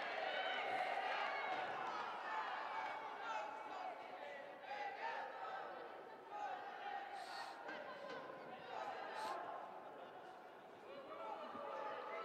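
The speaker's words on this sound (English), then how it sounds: "Freya Gregory back to her feet and being applauded by those Newcastle fans" Newcastle United fans applaud at a Barclays Women's Championship match against Blackburn Rovers as a player gets back to her feet; steady distant stadium crowd noise under continuous commentary.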